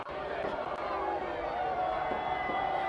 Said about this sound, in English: And the crowd reacts accordingly